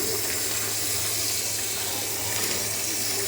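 Steady running water from a kitchen tap as hands are washed, a continuous close hiss and splash with no talking.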